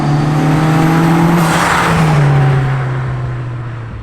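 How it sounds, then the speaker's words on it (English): A 430-horsepower Mitsubishi Lancer Evo 9 exhaust droning steadily while driving past California farmland, loud and close, with engine pitch rising and easing under road and wind noise, no voices. "Dude, such a clean sound. It's not like an obnoxious exhaust sound."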